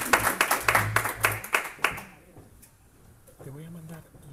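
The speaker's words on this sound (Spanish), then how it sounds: "Un aplauso." Scattered clapping in a room at the close of a Spanish political talk, a few seconds of irregular claps from a small audience that fade out, followed by brief speech.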